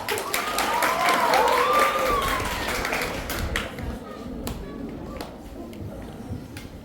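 Applause and claps from an audience at a school literary café play put on by first-year students, a dense patter mixed with chatter and voices, fading after a few seconds into scattered claps and murmur.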